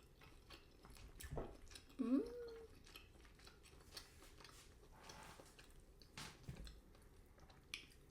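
Chewing a bite of bitter melon hot pot dipped in chili fish sauce, soft wet squishy mouth sounds with one louder bite near the start, close and faint against a quiet room.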